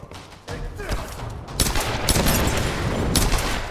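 Gunfire in the Tomb Raider video game: a rapid volley of sharp shots, starting softer and then hitting in loud bursts with short pauses between them, close and dominant.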